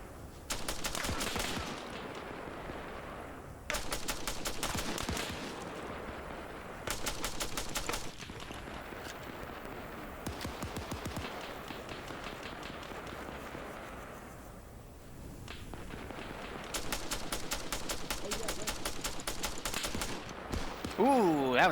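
Automatic gunfire in the video game Arma 3, in a trench warfare battle, comes in rapid rattling bursts of several seconds each. The bursts are separated by short lulls filled with a steady background roar.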